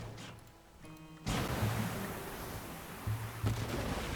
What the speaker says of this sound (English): Now tell it to do closer to battleship and shoot with torpedo.